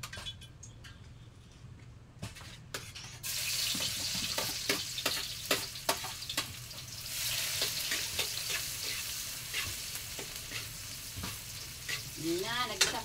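Garlic and onion sauté in a pan, quiet at first, then a steady close sizzle picks up with repeated clinks and scrapes of a utensil stirring, and a brief voice near the end.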